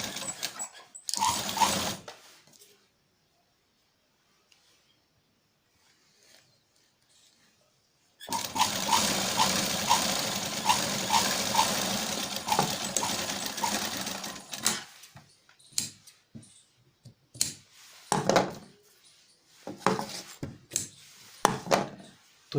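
Sewing machine stitching a folded one-inch fabric strip for a blouse, with a short opening run, then a steady continuous burst of about seven seconds, followed by several brief stop-start bursts, close and fairly loud.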